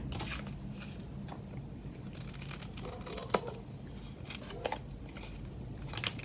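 Scissors trimming a paper collage tag, with repeated crisp snips and crunchy cuts over a low steady background hum, a few louder clicks standing out.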